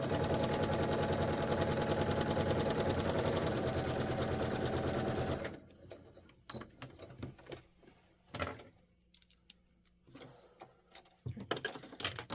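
A home sewing machine runs a seam on its longest stitch setting, giving a loud, steady rapid mechanical whirr for about five seconds. It then stops, leaving scattered clicks and handling noises of fabric and machine.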